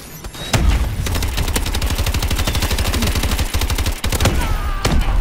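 Rapid automatic gunfire from a weapon in the video game Call of Duty: Advanced Warfare, a loud sustained burst of evenly spaced shots lasting several seconds, with a brief break and further shots near the end.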